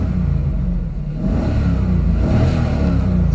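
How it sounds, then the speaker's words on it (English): A Pontiac Firebird Trans Am with an LS1 V8 and automatic transmission idles with a deep, loud rumble, dips briefly, then revs up and holds a throaty roar close by. "I just started up the vehicle. It has a nice V8 sound. I'll give it a little rev."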